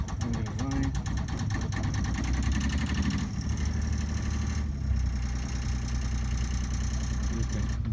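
An engine idling just after starting, a steady low rumble with a rapid mechanical ticking rhythm that holds constant through the whole stretch.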